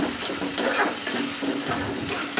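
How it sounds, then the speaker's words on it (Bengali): Cumin and ginger frying with tomatoes in a pan, a steady close sizzle with faint scraping and stirring knocks, no voices. "এখন এই যে জিরা আদা এগুলো মশলা দিব দিয়ে ভেজে নেব"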